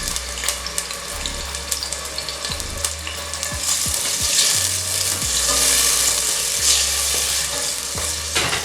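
Tomato slides into hot palm oil in a pan for a makwala and shrimp broth, raising a loud, sustained sizzle with intermittent scraping and stirring clatter, up close and without speech.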